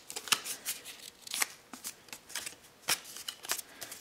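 A strip of yellow file folder being folded and creased into a sticky trap, with a series of crisp papery crackles and rustles close by, irregular and fairly quiet, with no talking.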